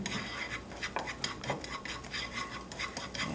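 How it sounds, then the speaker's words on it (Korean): Chopped onions stir-fried in a pan give a soft, steady sizzle with scraping and rubbing of a utensil against the pan, fairly quiet, with no voices. "다진 양파를 넣어서 살짝 볶아주시고"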